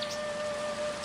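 Steady rain hissing and pattering on a surface, continuous and fairly soft throughout, with no voices.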